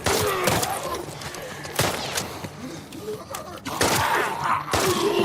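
Gunfire in The Last of Us Part II Remastered on Grounded difficulty, with several sharp shots and bursts cutting through a busy game soundscape of thuds and enemy noises.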